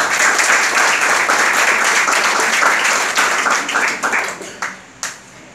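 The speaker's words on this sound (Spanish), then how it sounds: "Un aplauso para ustedes." Loud, close audience applause at a broadcasting school, dense clapping that holds steady and then tapers into a few scattered final claps.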